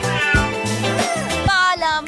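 A kitten meows repeatedly at close range, loud and clear, with several drawn-out, high-pitched mews following one another in quick succession.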